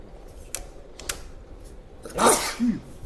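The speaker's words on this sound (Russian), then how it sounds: "Чихать в это время записи." One sharp, close sneeze bursts out near the end, indoors, after a couple of faint clicks and a quiet background.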